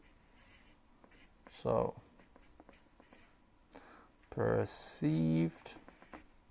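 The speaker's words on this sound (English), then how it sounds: "if I can write this here" A marker or pen scratches on a board in a few short, close strokes between quiet gaps, with someone speaking briefly around them.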